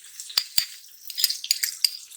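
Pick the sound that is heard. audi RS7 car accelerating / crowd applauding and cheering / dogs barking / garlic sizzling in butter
garlic sizzling in butter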